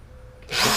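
A power drill spins up abruptly and runs loud and close during a steel offroad bumper build for a 4th Gen 4Runner, a sharp high whine after a brief quiet moment.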